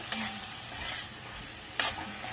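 Chopped pumpkin being stirred into tomato masala frying in a pan, giving a soft continuous sizzle with two brief scraping clatters of the spoon, close and without talk.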